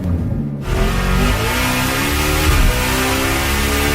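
A Lamborghini engine revs loud and close, the note rising and falling in a sustained roar with a brief surge midway, with no talking.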